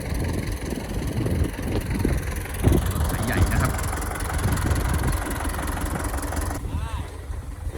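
A tractor engine runs steadily in a rice-field setting while pulling cut grass out of a drained fishing pond with an anchor, a low continuous drone beneath someone speaking throughout.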